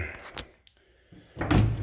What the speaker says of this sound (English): when I open the door in the back here in a minute